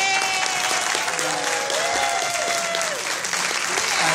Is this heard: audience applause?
yes